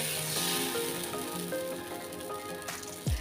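Batter made from wheat flour, spread thin on an oiled pan, sizzles in a steady soft crackle, faint and continuous like light rain, with a low thump near the end.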